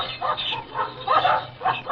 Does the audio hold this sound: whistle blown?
no